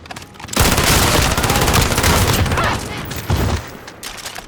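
Sustained automatic fire from a FINN machine gun in Call of Duty Modern Warfare, a loud continuous rattling burst lasting about two seconds, a brief pause, then a shorter burst, with no talk over it.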